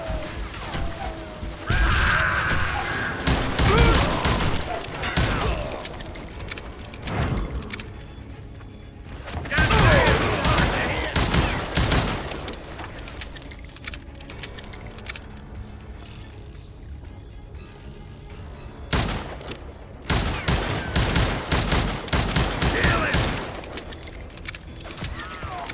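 Gunfire in the Western shooter video game Call of Juarez: Gunslinger, repeated sharp shots in bursts spread across the stretch, some clustered into rapid volleys, over game ambience and occasional voices.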